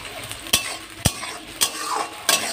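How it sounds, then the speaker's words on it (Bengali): Onions fry in a pan for chicken biryani masala, a soft sizzle broken by four sharp, evenly spaced clacks of a utensil stirring against the pan, close and without talk. "পেঁয়াজটা যতক্ষণ ভাজা ভাজা হচ্ছে"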